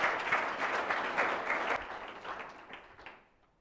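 An audience at an ecology lecture breaks into steady, dense applause welcoming the speaker, holding strong before thinning and fading out near the end.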